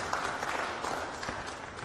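Faint, distant applause ripples briefly through a crowd after a good shot at the 2017 WCOP, thin and short with no talk over it.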